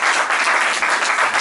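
Audience applause at a book presentation, a dense, continuous round of many hands clapping, close and loud, with no talk over it.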